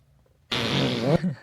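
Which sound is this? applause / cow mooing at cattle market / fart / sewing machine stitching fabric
fart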